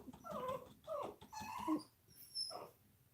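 A female dog whimpering indoors, several high plaintive whines and soft yips in close succession, fairly quiet and close, with no talking.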